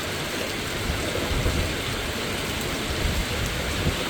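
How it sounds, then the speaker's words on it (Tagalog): Steady, heavy rain pours down without pause on a tomato farm, a dense hiss of drops hitting surfaces close by, with no voices. "Ulan ng ulan."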